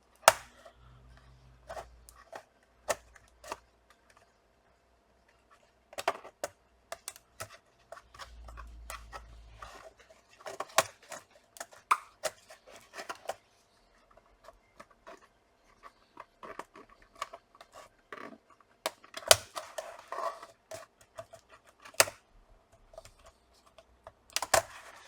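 Keyboard being pried off a Lenovo B590 laptop with a sharp tool, a long run of scattered plastic clicks, snaps and taps close by, with short pauses between bursts and no talking.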